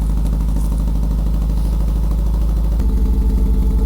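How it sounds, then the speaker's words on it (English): An Alfa Romeo-inspired car engine runs at open throttle with its air box removed, leaving only a pipe to the airflow meter. It gives a loud, close, rough throbbing drone that deepens into a heavier pulsing beat near the end, with no talk. "at the moment it's open throttle, so it's pretty noisy"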